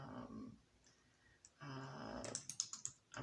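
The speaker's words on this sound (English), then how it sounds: "I'm typing it in here" Fingers type on a computer keyboard, a handful of quick, light key clicks in uneven bursts, faint and close in an otherwise quiet room.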